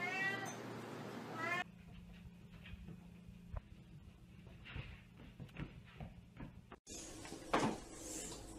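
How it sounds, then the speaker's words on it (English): A cat sitting on a car meows, a clear, fairly close cry right at the start, followed by quiet stretches of small ticks and clicks and then another short, higher-pitched mew near the end. "There's a cat on the car."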